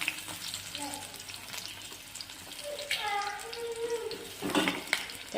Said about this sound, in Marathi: तर चला मग आपण तेलामध्ये कांदा फ्राय करायला टाकू